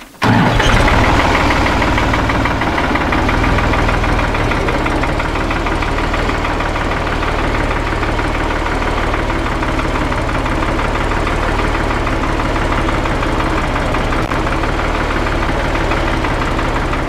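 A tractor engine starts abruptly and then runs at a loud, close, steady idle, with a constant rumbling knock that carries on unbroken.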